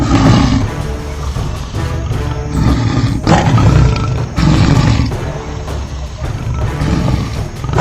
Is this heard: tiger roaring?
yes